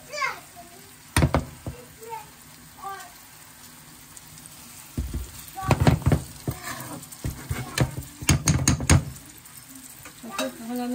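Potatoes and mustard frying in a pan for aloo baazi, giving a steady sizzle broken by clattering stirring strokes in loud clusters, while someone speaks and children's voices chatter in the background.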